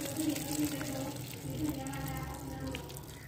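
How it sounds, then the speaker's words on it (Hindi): Water drains and trickles steadily out of a batch of soaked wheat grains being lifted for sprouting into wheatgrass, a close continuous splashing flow, with a voice speaking over it. "ये पानी इसका अब निकल रहा है।"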